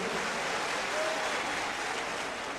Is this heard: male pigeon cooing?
no